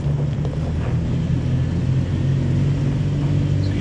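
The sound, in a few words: Toyota 4Runner TRD Pro at full throttle off-road, ABS working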